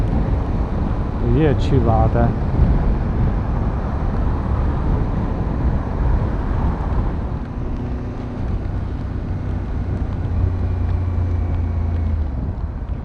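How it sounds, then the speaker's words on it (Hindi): Cool wind blowing after heavy rain on the way to ancient pyramids in Mexico, a steady loud rush buffeting the microphone while someone speaks briefly near the start. "ठंडी ठंडी हवा चलने लग गई है"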